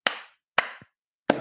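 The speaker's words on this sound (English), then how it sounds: "There's cupping it, and a flat clap." Three sharp hand claps, close and isolated, each with a brief hollow ring. The cupped-hand claps sound deeper and more resonant than a flat clap.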